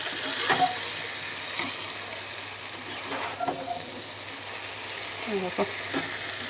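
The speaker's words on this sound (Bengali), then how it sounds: "দিয়ে দিলাম চিংড়ি মাছ এবার সামান্য একটু নেড়ে চেড়ে" Prawns sizzle in a pan as they are stirred into a shapla (water lily stem) curry in a home kitchen. A steady soft frying hiss runs throughout, broken by a few light clinks from the stirring utensil.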